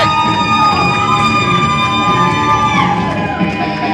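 Loud arena crowd at a wrestling show cheering and shouting as shirts are thrown into the stands, a dense continuous roar with whistle-like tones over it.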